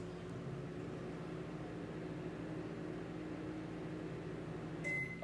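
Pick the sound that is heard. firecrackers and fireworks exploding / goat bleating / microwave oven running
microwave oven running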